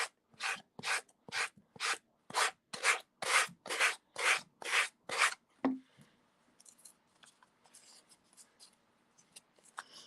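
Fine-grit sandpaper rubs a Halloween craft piece in about a dozen brisk, evenly spaced strokes, close and crisp, followed by a few faint, scattered scrapes and rustles.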